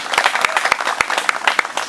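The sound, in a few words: applause for Abdi and friends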